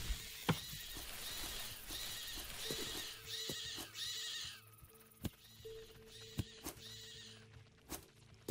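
Braying and whinny-like calls from a donkey in the video game Artificer: Science of Magic, sounding as repeated harmonic cries over a low game background, joined by clip-clop hooves and scattered sharp thunks.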